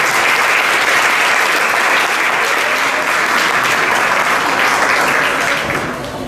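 An audience at a law school forum breaks into loud, sustained applause, a dense wash of clapping that holds steady and then tapers slightly at the end.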